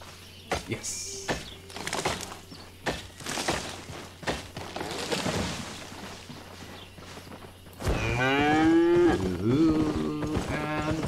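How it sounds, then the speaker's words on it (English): Cattle in the video game Albion Online let out a loud, drawn-out moo in the last few seconds, after footsteps and other game sounds with talking. "and mooing"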